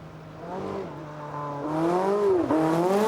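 A Ferguson race car engine catches and fires back into life at a hillclimb speed event, its rising, wavering engine note growing louder and revving higher over a few seconds.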